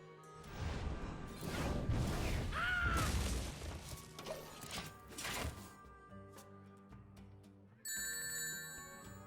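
A super chat alert chimes on a livestream: a short bright tonal jingle enters near the end and holds steady, following a stretch of loud crashing, clattering game sounds.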